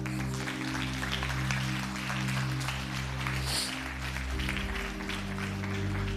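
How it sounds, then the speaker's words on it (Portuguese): A church congregation applauds the Lord during a service, with steady, dense clapping running throughout over sustained low keyboard or organ tones. "Então aplauda o Senhor."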